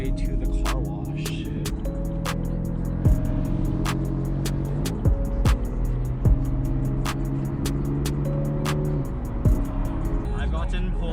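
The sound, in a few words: car driving on the road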